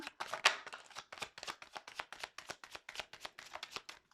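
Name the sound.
shuffling tarot cards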